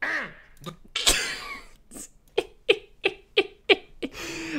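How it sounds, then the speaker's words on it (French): A man clears his throat in a series of short, rasping bursts that repeat in a quick, uneven rhythm, close and fairly quiet. "il se racle la gorge"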